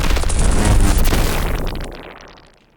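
Designed lightning strike with layered electricity, a loud broad crashing roar of hard-panned noise that holds for about a second with crackling detail, then rumbles and fades out over the last second.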